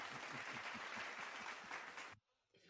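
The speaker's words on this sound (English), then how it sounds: "Cheering, drum roll, clapping for finishing episode 36." An applause and cheering sound effect plays on a crypto podcast, a thick burst of clapping and crowd noise that holds for about two seconds and then cuts off abruptly into near silence.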